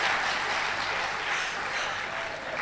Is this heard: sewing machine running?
no